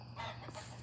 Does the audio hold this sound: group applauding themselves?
no